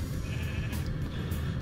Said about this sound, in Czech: tady jsou ovce